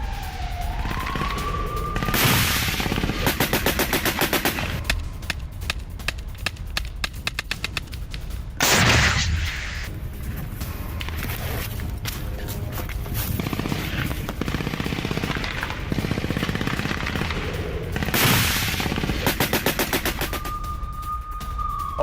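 Bursts of rapid gunfire rattle through a released Hamas attack recording of an assault on an IDF military vehicle, loud and close, with long volleys of cracks broken by heavy blasts and a rising siren-like whine.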